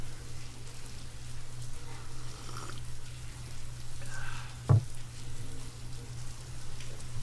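Rain falling in Signal Simulator, a steady soft hiss with a low hum underneath and one brief sharp knock partway through, continuous and fairly faint.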